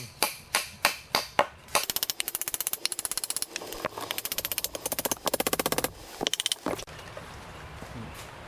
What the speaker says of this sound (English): Then just take my hammer and I drive these in.